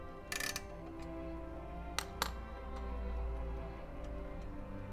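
A hand-wound Tiffany ship's clock, just wound with its key, strikes its bell three times in an uneven pattern, each strike leaving a ringing tone that slowly fades over quiet room noise.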